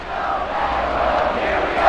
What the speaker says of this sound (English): they're chanting his name